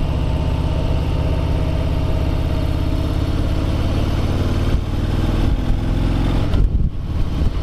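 A 2018 Harley-Davidson Breakout rumbles loudly and continuously while being ridden, its deep engine drone steady with slight shifts as it leans through corners and pulls out of them.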